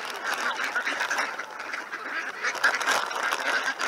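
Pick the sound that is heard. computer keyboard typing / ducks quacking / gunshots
ducks quacking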